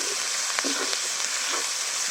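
Ginger and garlic paste frying with tomato for a dhaba-style chicken curry, a steady loud sizzle with a few scraping stirs of the spoon through the paste, close up and without talk.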